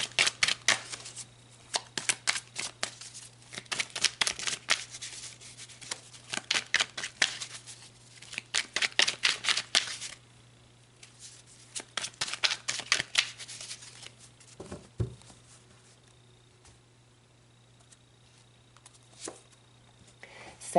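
Tarot cards shuffled repeatedly by hand, with bursts of quick riffling flutters separated by short pauses, close and clear over a steady low hum, with no talking.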